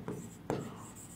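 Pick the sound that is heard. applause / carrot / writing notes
writing notes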